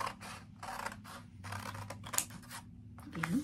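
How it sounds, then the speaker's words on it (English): Scissors cut through orange paper along a curved strip in a crafts session: a steady run of close, crisp snips in quick rhythm, with no talking. "I'm going to take two sheets of orange paper again and my scissors, and this time I'm going to cut a strip"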